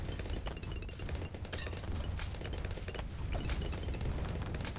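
Sentry guns in Bloons TD 6 fire rapid, continuous bursts. The dense, steady mechanical shooting is loud and runs throughout, with no talk over it.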